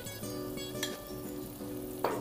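Tomato and onion with salt frying gently in a pan, a soft, even sizzle under faint steady tones, with a small clink of a utensil near the end.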